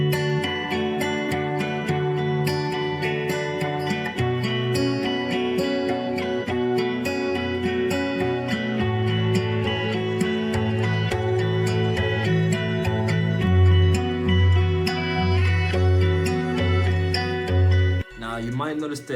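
Several layered guitar lines, pitched down, play together in a steady, dense loop with a deep low end, full and continuous for about nineteen seconds.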